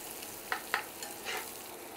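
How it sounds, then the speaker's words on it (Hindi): Ingredients lightly frying in a pan for egg fritters, a soft steady sizzle with two sharp stirring clicks and a brief swell of spatula scraping, no voices. "हमें हल्का सा फ्राई करना है 1 से 2 मिनट"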